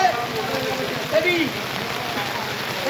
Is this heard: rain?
yes